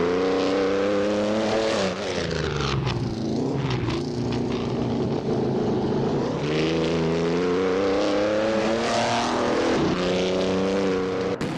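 The 1938 Mercedes-Benz W154 race car's engine screams steadily in a racing video game, a loud, continuous high-revving whine with brief dips and rises as the car shifts and accelerates, with no talk over it.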